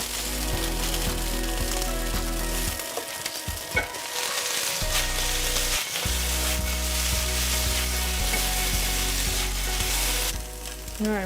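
Cauliflower gnocchi fry and brown in a pan, giving a close, continuous crackling sizzle with scattered pops and occasional stirring and scraping sounds. There is no speech.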